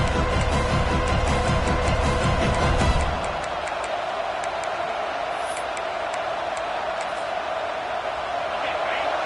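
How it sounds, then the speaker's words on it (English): A packed crowd at a top-25 college football game between Florida and Alabama roars as a continuous loud wash of cheering. A heavier low rumble drops away after about three seconds, leaving a steady crowd din. "This crowd trying to make life miserable for this offense."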